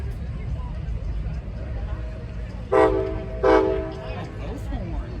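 Two short, loud blasts from the horns of a MARC commuter train locomotive returning to the yard, both horns sounding at once, standing out over steady background rumble.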